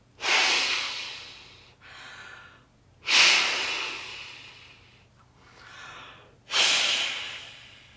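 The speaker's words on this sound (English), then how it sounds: "So just 3 full exhales." Three deep, breathy exhales spaced about three seconds apart, each a strong airy rush that fades, with softer inhales between them, close and quiet with no talking.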